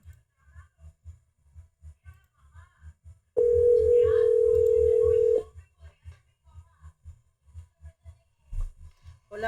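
WhatsApp call ringing tone: a steady beeping pulse under soft rhythmic background sounds, then a loud continuous tone lasting about two seconds before the pulsing returns.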